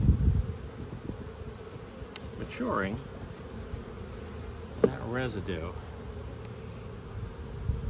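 Honey bees hum and buzz around an open hive while a beekeeper splits hives, a steady close drone under a voice talking through the clip.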